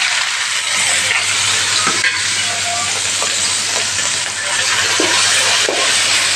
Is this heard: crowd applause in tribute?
no